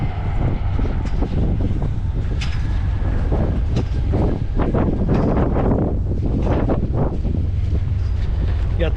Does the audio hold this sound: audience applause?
no